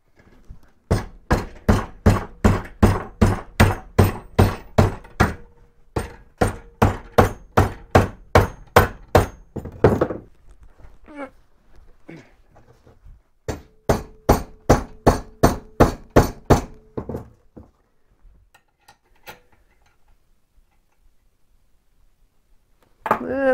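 Hammer blows driving hooks on an 80cc two-stroke motorized bicycle build, sharp metallic strikes in two long steady runs of about a dozen evenly spaced hits each, loud and close, then a few scattered taps.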